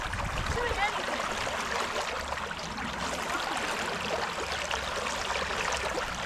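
Creek water rushes steadily around a wader in Clearwater Creek, a continuous broadband flow that stays close and loud throughout.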